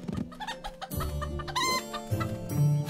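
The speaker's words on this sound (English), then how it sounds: "Well, chickens do indeed lay eggs." Chickens cluck and squawk on a farm in the Townsmen VR village-building game, with a few short, close calls in quick succession, bright and clear against a quiet background.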